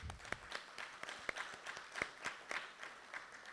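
An audience claps in applause at a talk on GMOs and health in New Zealand, a steady scatter of quick, fairly sharp hand claps that carries on throughout without voices.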